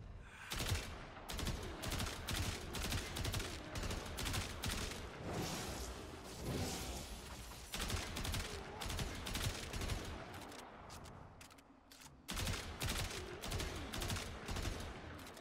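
Tiberon Prime rifle fire in Warframe, steady bursts of sharp, close shots in quick repeated volleys with brief gaps, loud and alone without speech.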